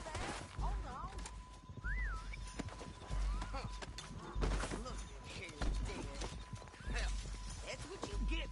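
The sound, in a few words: horse hooves and neighing in a video game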